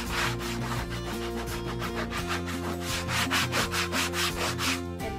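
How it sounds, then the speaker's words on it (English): An 80 grit sandpaper block rubs back and forth over a painted wooden chair in quick, even rasping strokes, close and continuous with no speech. "I'm now using 80 grit sandpaper."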